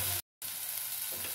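Ground turmeric, coriander and dried chilli powder fry in a pan with a little salt and water, a close steady sizzle broken by a brief total silence.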